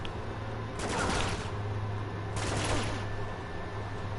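Two sharp bursts of rapid video game pistol fire crackle loudly, separated by a brief pause over a low steady hum.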